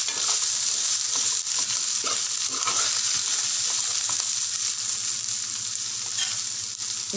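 Ginger, garlic and curry leaves frying in oil in a pan for paneer masala curry give a loud, steady sizzle, with a utensil stirring and scraping through the mixture up close and no talking.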